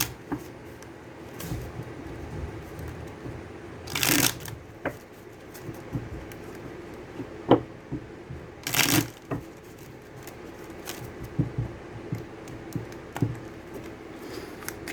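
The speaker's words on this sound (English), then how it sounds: "So I'm going to go ahead and get some cards here to clarify this reading for you guys." Tarot cards are shuffled for a reading, giving soft intermittent rustles and a couple of louder riffling bursts, with light taps and handling noises in a quiet room.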